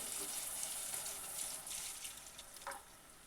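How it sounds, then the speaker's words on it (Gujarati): Water is poured into a hot pan of chili sambharo, making a soft, steady hiss and sizzle up close, with a brief splash near the end. "હવે આપણે તેમાં અડધા ગ્લાસથી ઓછું થોડુંક પાણી નાખી દેવું."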